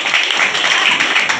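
An audience applauds at a children's camp event, a dense, loud wash of clapping that carries on steadily for the whole brief moment.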